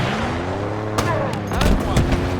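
Gunfire in the video game Halo Infinite, a burst of shots cracking over a dense, loud game soundscape with layered effects and rumble throughout.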